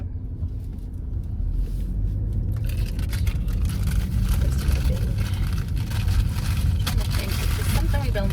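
Car interior noise while driving, a heavy low rumble of road and engine that grows louder after a quieter opening couple of seconds and then holds steady, with no clear talk over it.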